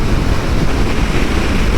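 Strong crosswind buffets the microphone of a rider on a KTM Duke 390 motorcycle on the highway, a loud, steady roaring rumble that continues without any voices.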